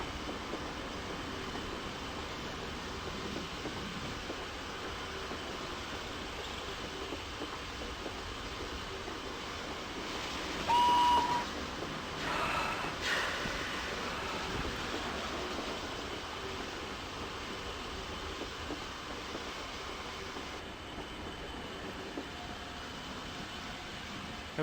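Steam train in the OpenRails game slowing to about ten miles per hour on the approach into Swanage Station on the Swanage Railway, a steady low rumble of rolling wheels and carriages with a brief tonal blip partway through.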